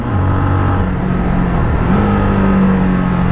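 A Mash TT40 400cc motorcycle accelerates while overtaking another bike, a loud, close engine drone holding steady and then stepping up in pitch as it pulls past.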